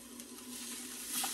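Chicken breast sears in a hot pan over high heat, a soft steady sizzle with faint crackles, fairly quiet and without voices.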